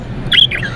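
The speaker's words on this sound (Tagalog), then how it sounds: "Nabubulabog na yung ibon nyo." A disturbed bird squawks once or twice at its nest box, a short sharp call close to the microphone over faint background noise.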